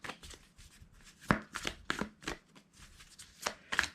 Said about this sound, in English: I'm going to shuffle again on camera for y'all